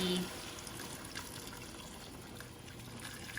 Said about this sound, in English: I am going to throw in the hot water that is in my little blender thingy